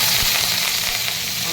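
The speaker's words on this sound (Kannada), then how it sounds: "ಈಗ ಸಾಸಿವೆ ಆಗಿದೆ, ನಾನು ಕರಿಬೇವು ಹಾಕ್ತಾಯಿದ್ದೀನಿ." Curry leaves dropped into hot oil with popped mustard seeds sizzle and crackle steadily and loudly, a dense continuous frying hiss close to the pan.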